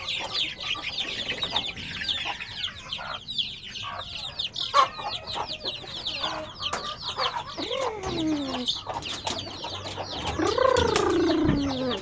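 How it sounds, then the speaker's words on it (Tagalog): Several chickens of various breeds cluck and chatter continuously nearby, with overlapping calls and a louder, drawn-out squawk near the end. "Iba-ibang lahi ng manok."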